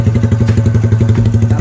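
A motorcycle engine idles while it warms up, a loud, steady rhythmic putter with even pulses close by and no speech over it.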